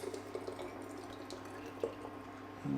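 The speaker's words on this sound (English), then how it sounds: "they take about 250 mils of the sauce. So we're just going to carefully pour it in" Hot spicy honey haw sauce pours into sterilised glass bottles with a soft, continuous liquid trickle and occasional faint drips, close and quiet, with a small clink near the end.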